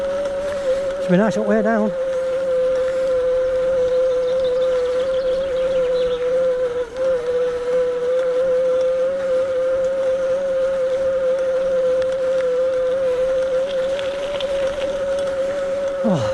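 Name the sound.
electric bike motor pulling uphill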